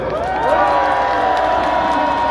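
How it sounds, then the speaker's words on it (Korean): A large crowd at a Gwanghwamun rally against the president's impeachment in Seoul cheers and applauds loudly and continuously, whoops and shouts rising over a steady wash of clapping. "여러분, 큰 박수와 환호 보내주세요."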